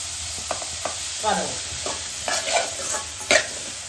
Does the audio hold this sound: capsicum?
yes